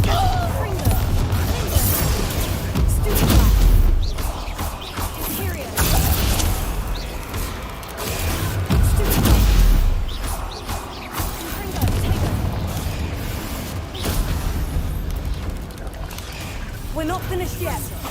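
Bombarda and Confringo spells explode in a Hogwarts video game, heavy booming blasts striking at intervals amid crashing debris, with someone talking over the action.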